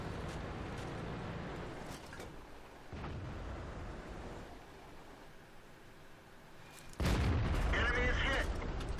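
Tank cannon shots from an M26 Pershing in the game World of Tanks, with a sharp loud blast near the end over continuous engine rumble and earlier duller booms, mixed with game voice callouts.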